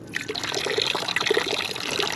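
Water is poured from a bottle for a dog on a hot hiking trail, a soft trickle and splash that runs steadily and close by, faint against the outdoor quiet.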